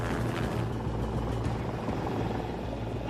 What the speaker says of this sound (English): They divert a helicopter, which was taking tourists on a sightseeing tour, to track the jet's movements.